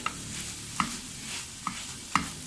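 Beef mince cooked with a spoonful of flour in a pan, stirred over a steady low sizzle, with four distinct clinking scrapes of the utensil spaced irregularly across a couple of seconds, close and without speech.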